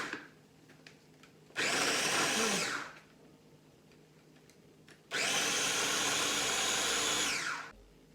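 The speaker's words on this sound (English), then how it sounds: "press down and it'll whiz up" A food processor whizzes in two loud, steady bursts while quiche is being made. The first lasts about a second and a half and the second about two and a half seconds, with a quiet gap between them.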